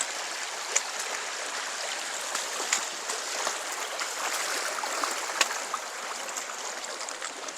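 A river on the Ozark Highlands Trail in Arkansas flows steadily during a hiker's crossing, a continuous close rushing and babbling of water with small splashes and no voices.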